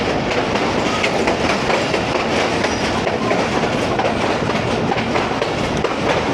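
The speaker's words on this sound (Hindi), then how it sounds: "ये ट्रैक साउंड एंजॉय करें कुछ देर तक।" The Allama Iqbal Express rolls along rail tracks between Lahore and Narowal, a loud, continuous rumble with rhythmic clickety-clack of wheels over rail joints and no talk.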